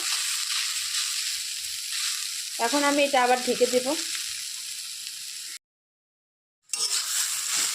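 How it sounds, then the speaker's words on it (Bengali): Taro (kochu) pieces frying in a pan with a lid on and off for a prawn dish: a steady, close sizzle that goes on under a short spoken remark, drops out for about a second, then resumes. "এটা ঢেকে ঢেকে ভাজতে হবে কচুটা তা নাহলে সেদ্ধ হবে না ভালো"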